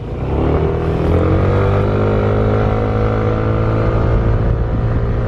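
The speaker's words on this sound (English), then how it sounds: "Hey, this is motorbike riding." A small motor scooter engine, a Yamaha NMAX, Honda ADV or Honda PCX, revs up and holds a steady, buzzing drone close by, the engine pitch climbing then staying level as the ride continues.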